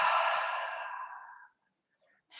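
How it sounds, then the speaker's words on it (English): A long, full exhale through an open mouth during a yoga breathing exercise, breathy and fading gradually over about a second and a half, followed by silence and the start of a fresh breath. "Final time, big inhale. And a full exhale."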